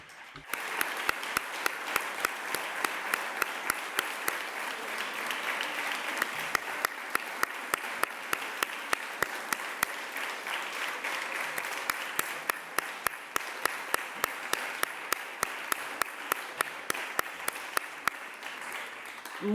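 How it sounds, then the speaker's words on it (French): Sustained audience applause at a cultural dialogue event, a dense wash of many hands clapping steadily for nearly twenty seconds with sharper individual claps standing out, fairly loud and with no talking over it. "je voudrais aux deux leur remercier énormément par un applaudissement."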